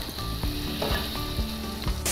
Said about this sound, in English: put a little butter into the pan. Add half of the garlic that we chopped.